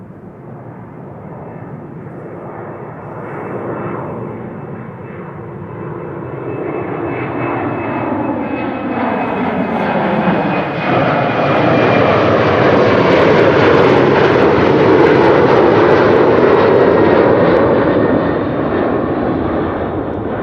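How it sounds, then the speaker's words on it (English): KLM Embraer 190 jet in SkyTeam livery passing near Amsterdam Schiphol, a loud continuous engine roar that swells steadily toward a peak and holds with a sweeping, shifting tone, no voices. "KLM Embraer 190 in SkyTeam livery on its way to Zagreb."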